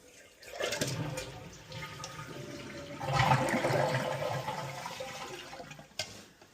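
A toilet flushing with the water supply shut off, a rushing gurgling drain that surges midway and then tapers to trickles and a final clunk, nearby and alone.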